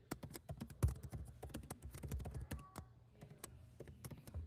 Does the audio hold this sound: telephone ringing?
no